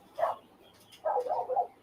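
A dog barks at close to middle distance: one short bark, a pause, then a longer run of quick barks and yips. No one speaks.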